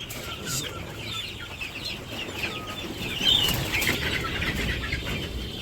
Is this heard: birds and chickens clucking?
yes